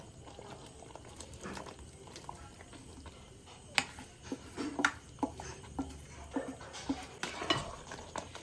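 Paneer cubes and capsicum pieces tumble into a pan of creamy tikka masala gravy, producing soft clinks of utensil on pan and wet stirring sounds, with a few sharper taps scattered through quiet kitchen ambience.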